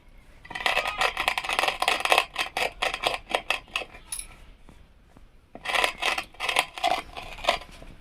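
Cardamom pods with a little sugar are ground by hand, giving rapid rhythmic rasping scrapes in close bursts, a brief pause, then another run of quick grinding strokes.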